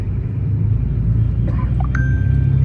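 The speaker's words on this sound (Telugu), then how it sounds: "ఆ బస్సు బయటకు వస్తుంది చూడండి" A bus pulls out of the Bhubaneswar bus stand with a steady, heavy low engine rumble nearby, and a few short tonal beeps and squeaks cut through midway.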